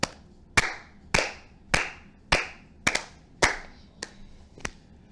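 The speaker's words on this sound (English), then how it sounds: "I think that Des deserves a Garrett clap." Nine sharp, slow, evenly spaced single hand claps ring out near and loud, each with a short room decay, during a live sports reaction stream.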